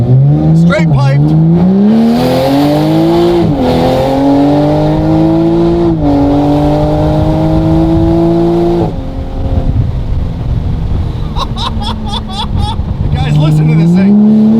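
A straight-piped widebody 2020 Toyota Supra revs loudly and close, its engine pitch climbing and falling through several long pulls, with brief crackles between pulls and people talking over it.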